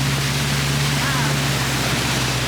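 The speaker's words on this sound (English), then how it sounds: "Look at all that water coming down here." Flood water pours down a hillside during a flash flood, a loud, dense, unbroken rushing roar with a steady low hum beneath it.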